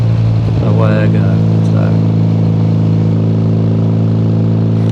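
A Triumph Bonneville motorcycle engine runs loud and close with a steady low throb, rising briefly in pitch as the throttle is rolled on, then settling back into an even idle-like drone.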